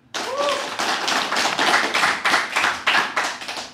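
An audience at an Islamic study gathering claps hands together in strong, rhythmic bursts, roughly regular beats that start abruptly and carry on loud and close throughout.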